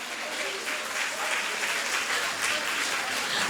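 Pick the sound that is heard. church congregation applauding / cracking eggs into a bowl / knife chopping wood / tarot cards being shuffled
church congregation applauding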